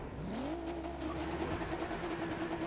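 A car engine in Forza Horizon 3 revs up and holds a steady drone, moderately close, with no talking over it.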